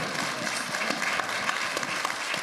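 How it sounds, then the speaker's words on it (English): Crowd applause for panelists at a summit panel discussion, continuous even clapping from an audience filling the whole stretch, moderately loud with no talk over it. "Let's give them another round of applause."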